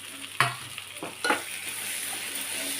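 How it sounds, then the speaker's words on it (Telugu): Tomatoes go into a hot pan and fry with a steady sizzle, broken by a few sharp stirring scrapes and clatters up close, with no one speaking. "టమాటా వేసి మగ్గనిద్దాం"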